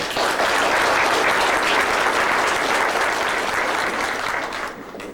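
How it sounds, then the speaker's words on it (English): Dense, steady applause from a church congregation at a 125th anniversary celebration, thanking the organisers; loud and continuous throughout, tapering slightly at the very end. "I think those guys deserve a round of applause too."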